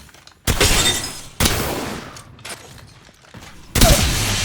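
Gunfire in Apex Legends: sharp broadband blasts at the start and again near the end, each trailing into a noisy tail, with quieter mechanical handling sounds between, close and loud.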